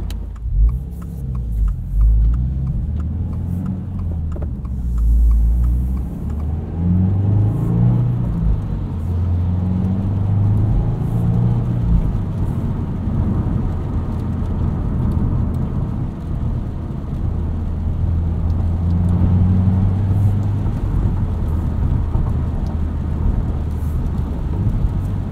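Steady low engine drone and road rumble from a 2022 Subaru WRX Premium with a 6-speed manual, heard from inside the cabin while driving, with mild rises in revs and no talk.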